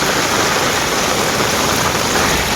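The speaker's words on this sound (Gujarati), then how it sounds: "વરસાદ હજી બંધ નથી, હજી ચાલુ જ છે" Heavy monsoon rain pours down steadily near a farm field, a loud, dense wash of water that fills the whole stretch without a break and with no voices.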